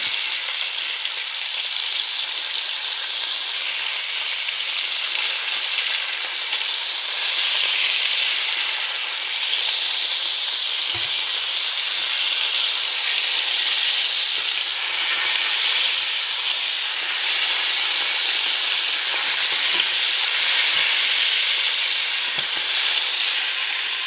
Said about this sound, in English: What I do is I move the liver around the bottom of the pan just to keep the surface area heat consistent.